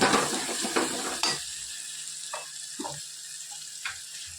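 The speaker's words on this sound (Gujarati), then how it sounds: "સરસ બધું મિક્સ કરી લઈએ" Spoon scrapes and stirs a coriander-cumin powder, garam masala and salt mixture in a pan, with a dense burst of rasping at first, then a few sparse, softer scrapes and taps.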